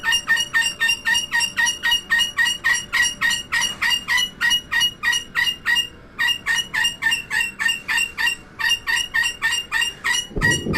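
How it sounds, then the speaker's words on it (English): A pet bird calls loudly and insistently indoors, repeating sharp, rhythmic squawks about three per second almost without pause, close to the microphone. "the bird will not shut up until she gets it."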